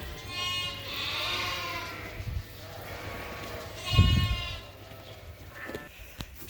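Ewes and lambs bleat repeatedly in a blended farm pen, several overlapping calls near and farther off, with a louder bleat midway against a low background rumble.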